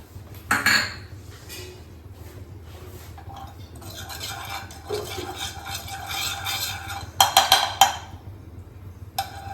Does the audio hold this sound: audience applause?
no